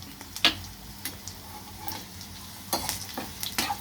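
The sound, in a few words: tempering frying in a pan until crisp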